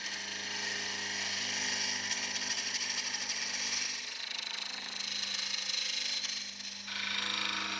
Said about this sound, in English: First of all, we have to turn the Cocobolo down to a cylinder.